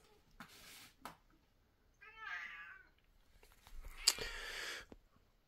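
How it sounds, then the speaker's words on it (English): A chatty cat meows several times at close range in a quiet room, with short calls at first and then a longer, drawn-out meow, separated by brief pauses. "Got a very chatty cat."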